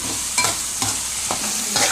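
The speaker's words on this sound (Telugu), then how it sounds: "ఇదైతే ఆయిల్ అయితే బాగా కలిపెట్టుకోవాలి." Fried rice ingredients stirred in hot oil in a pan: steady frying hiss with a few repeated scraping stir strokes, close and fairly loud, no voices.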